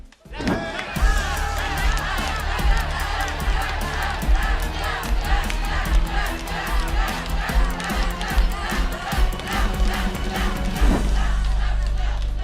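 A game show studio audience roars and shouts in unison at a contestant, loud and sustained crowd yelling with rhythmic chanting pulses throughout, a brief drop at the start and a surge near the end.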